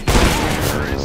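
Gunfire in the game CS:GO, a short dense burst of loud close shots lasting about a second, blended with a voice.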